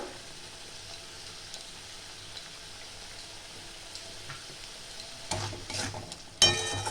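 Shredded cabbage with salt and garam masala sautés for Bengali niramish badhakopi, sizzling softly and steadily, then two louder bursts of stirring and scraping in the pan near the end.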